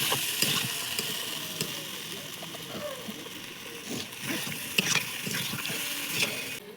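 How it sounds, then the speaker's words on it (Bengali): Water goes into a pan of fried eggs and jackfruit curry with a continuous gushing, bubbling sizzle, accompanied by scattered clinks and stirring noises close by. "তারপর আমি জল ঢেলে দেবো।"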